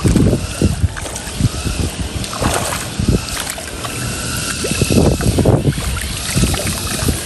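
Strong wind buffets the microphone in loud rumbling gusts, with water and boat noise underneath, at a milkfish fishpond during feeding.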